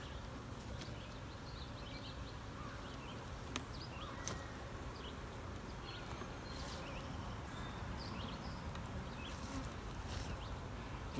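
Honey bees fill an overcrowded observation hive with a dense, continuous buzzing drone, steady and moderately close, with a few brief sharper clicks and taps over the hum.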